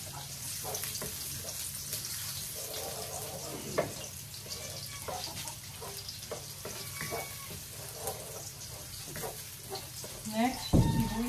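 Garlic fries in oil in a home kitchen, a close continuous sizzle with crackles and occasional stirring scrapes, a louder clatter near the end.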